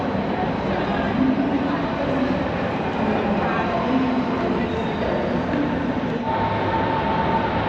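Train rolling into a large Berlin railway station at the end of a rail journey from Teignmouth in South Devon, a steady dense rumble and hiss of the carriage with a faint tonal whine near the end, continuous and close.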